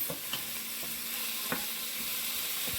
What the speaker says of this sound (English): So I'm sauteing these for about 3 minutes.